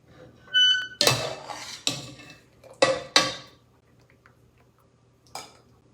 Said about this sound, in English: I'm also going to put these in the strainer